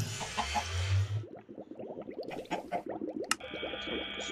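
Chickens cluck in Minecraft, a rapid run of soft, close clucks amid a busy farm of mechanical whirs, clicks and a brief sharp tick, with no talk.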